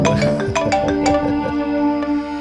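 A ringtone-style phone ring repeats in steady melodic pulses, loud and close, from a phone in a crime-series scene, with no talk over it.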